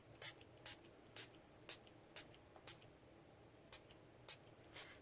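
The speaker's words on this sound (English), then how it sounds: "I just fill it with water, and then I just spray" A spray bottle of water spritzes in quick bursts, about nine short hissing sprays at an uneven pace, close and crisp against a quiet background.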